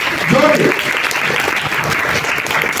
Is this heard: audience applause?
yes